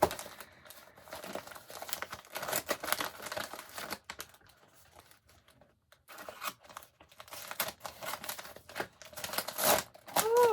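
Paper packaging crinkles and tears as a gift package is opened, in bursts of crisp rustling with a quieter pause in the middle, close and fairly soft with no talking.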